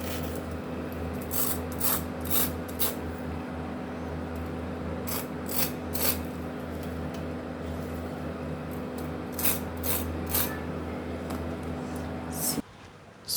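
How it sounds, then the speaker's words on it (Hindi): Crispy roasted sandwich toast being handled, giving repeated dry scraping and crackling rasps in short bursts over a steady low background hum, close and fairly loud, with no talking. "आप टोस्ट का क्रिप्स ज़रा सुन लें"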